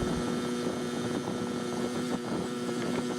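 A Honda Express NC50 moped's small engine runs steadily, a continuous buzzing drone with wind rush across the microphone, sounding close and alone with no talking.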